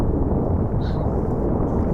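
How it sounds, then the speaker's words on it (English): Huge explosion played back from a video, a dense, sustained low roar filling the whole stretch at high loudness with no clear onset or decay. "freaking huge explosion."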